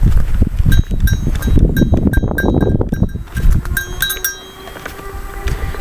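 Goats bleat repeatedly in short, sharp calls, fairly close, over a busy outdoor background of rustling and thumping movement.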